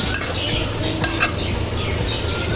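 Brinjal masala with fennel powder frying dry in a pan, stirred now and then with a spoon, giving a steady close sizzle broken by a few sharp scraping clinks.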